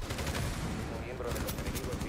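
Rapid gunfire bursts from the tactical shooter video game Rainbow Six Siege, dense and continuous across the whole moment with crackling shots layered over game noise, while a player's voice talks underneath.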